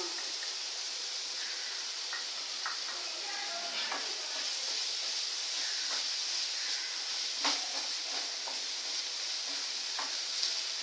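Gravy with chilli powder sautéing in a pan for mixed dal, a soft continuous hiss and sizzle with faint stirring clicks scattered through, close and even.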